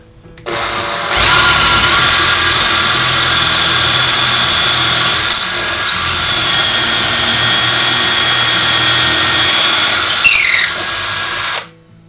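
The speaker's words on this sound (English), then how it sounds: "Now with my drill, it's this left one I'm going to use." A power drill bores pocket holes with a UJK pocket hole jig, with a loud, steady high-pitched whine that runs for about ten seconds. It starts and stops abruptly, with slight changes in load as the bit cuts, and there is no talk.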